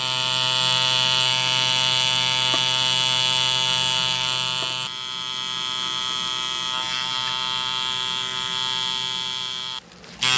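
Tattoo machine fitted with a five-round shader needle, buzzing steadily and close with a tonal electric hum, continuous throughout, briefly pausing near the end before restarting.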